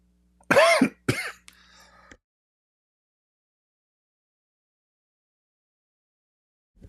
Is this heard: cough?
yes